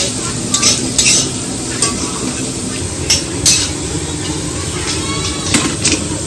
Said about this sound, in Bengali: মাছ ভাজার পরে পেঁয়াজ দিয়ে দিয়েছি পেঁয়াজটা একটু ভাজছি এখন